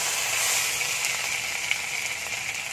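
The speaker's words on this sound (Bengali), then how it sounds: "ওই তেলে দিয়ে দেবো পেঁয়াজ বাটা," Onion paste hits hot oil left from frying eggs, a loud, dense sizzle that stays steady throughout, with no voices.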